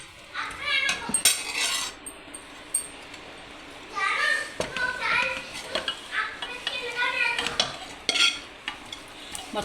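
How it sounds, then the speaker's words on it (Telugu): Chicken pieces go into a pot of curry-leaf chicken pulao set over kindled charcoal, with intermittent metallic clinks, scraping and stirring clatter in bursts, close and fairly loud. "మొత్తం ఈ చికెన్ అంతా ఇందులో వేసుకుందామండి."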